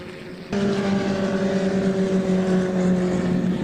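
A Merlin Mark 20A historic Formula Ford race car at Donington Park roars past as its engine note swells abruptly into a loud, sustained drone, with other cars audible in the background.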